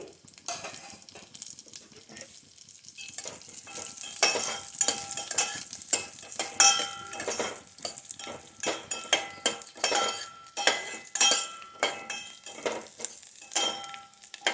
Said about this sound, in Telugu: ఇందులో జీడిపప్పు, పిస్తా పప్పు, బాదం పప్పులు, కిస్మిస్ వేసుకుని వేయించుకోవాలి